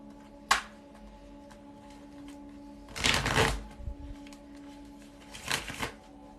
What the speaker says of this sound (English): the cards, my dudes, shuffle one more time